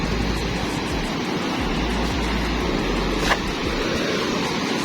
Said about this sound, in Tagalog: Dalawang magkakasunod na malaking alon, no?